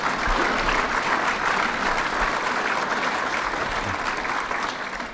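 Dense audience applause fills a hall during a political event in Buffalo, a steady, close, full-bodied clapping that holds strong before easing slightly at the end.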